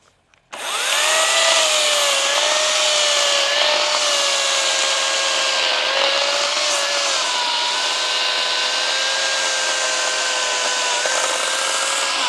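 An electric chainsaw runs a sustained cut through wood. The motor's loud, steady whine starts abruptly, holds with slight pitch dips as the chain bites, and carries on without speech.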